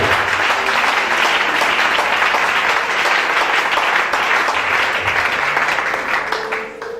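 A church congregation applauds loudly and steadily in a dense, sustained wash of clapping that carries on for several seconds before easing off at the very end.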